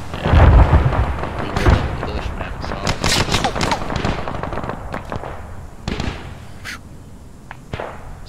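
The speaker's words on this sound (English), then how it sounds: "A weapon cooked off." Ammunition cooks off in ArmA 3 as a loud, dense string of sharp cracks and pops, heaviest at the start and thinning into scattered bangs. Voices talk over part of it.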